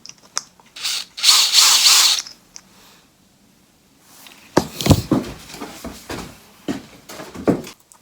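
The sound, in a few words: screwdriver with Torx bit driving a screw into camera mount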